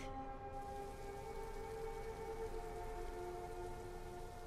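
Soft, steady rain hisses down in the video game Yume Nikki, with a faint sustained tonal drone running beneath the patter throughout.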